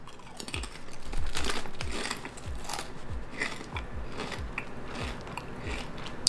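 Doritos Tangy Tamarind tortilla chips are bitten and chewed close to the microphone, giving a steady run of crisp, evenly spaced crunches with no talking.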